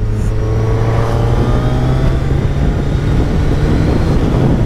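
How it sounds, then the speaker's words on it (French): Steady engine growl from a 2024 Suzuki Hayabusa sport motorcycle, a continuous, loud low drone with a faint whine above it and no clear revving peaks, with no talk over it. "Je dirais presque qu'il y a un compresseur, il y a un feulement dans le moteur"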